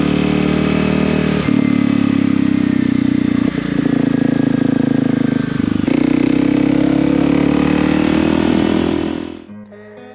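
Kawasaki KLX 300 motorcycle fitted with a Delkevic exhaust, running steadily close by with a low buzzing drone, small throttle swells around the middle, then cutting off abruptly near the end.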